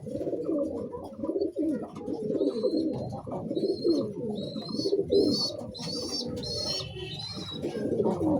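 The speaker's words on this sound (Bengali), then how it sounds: "অনেক বড় সাইজের একটা কবুতর" A large high-flying pigeon coos repeatedly up close in soft, rolling, throaty phrases, with a few thin higher chirps from other birds nearby.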